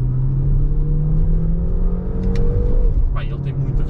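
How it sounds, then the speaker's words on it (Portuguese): An SUV, either a Peugeot 3008 or an Opel Grandland, accelerates at full throttle in sport mode, its engine droning loud and close with a rising whir over road noise. "vou acelerar a fundo."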